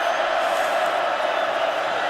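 A packed football stadium crowd at the 2012 Notre Dame vs Oklahoma college game gives off a steady, dense roar with no breaks, loud and continuous throughout.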